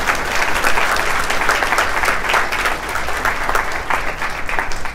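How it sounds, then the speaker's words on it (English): An audience at a speaking event breaks into full applause, a thick continuous patter of many hands clapping at steady loudness throughout, with no voices standing out. "That's the point where you will all clap and say,"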